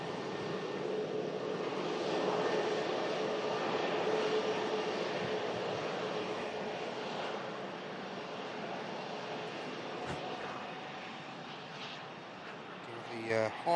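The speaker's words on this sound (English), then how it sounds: "the Hawker 750 we saw arriving earlier in the show. It's making its way back out now." A Hawker 750 business jet taxis out to depart, its engines holding a steady whine and roar at moderate distance for the whole stretch, ending with a few sharp knocks close by.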